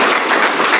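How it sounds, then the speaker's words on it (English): Dense applause from a large audience at a formal gathering, a brief loud burst of continuous clapping with no voices over it. "Another round of applause."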